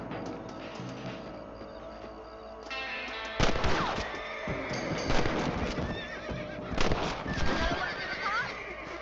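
Horse neighs and whinnies in a video game set among horses, with clip-clop hooves and a busy background of gunfire-like bangs and ambient game sound; the whinnies rise over a steady din.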